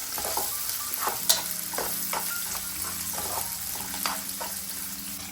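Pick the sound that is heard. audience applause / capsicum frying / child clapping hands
capsicum frying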